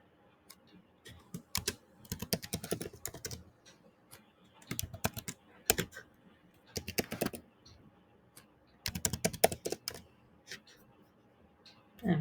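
Bursts of typing on a computer keyboard, fast clusters of key clicks separated by short pauses, close and clear with a quiet background.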